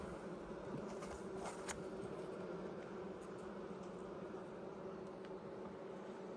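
Honey bees at an apiary make a continuous low buzzing drone, fairly faint and even throughout, with occasional louder passes and no talking.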